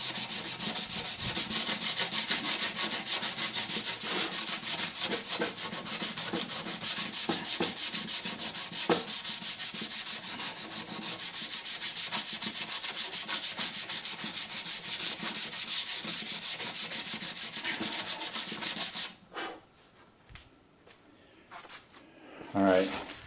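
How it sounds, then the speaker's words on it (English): A dirty surface on an Eastwood MP140i multi-function welder is sanded by hand in fast, scratchy back-and-forth strokes, loud and close for about nineteen seconds, then it stops and quieter handling noises follow. "I just sanded that down."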